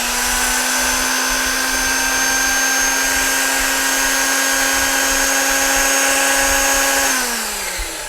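A small blender grinds spices for vegan andouille, a steady high-pitched motor whine that runs loud and continuous for about seven seconds, then winds down in pitch as it stops.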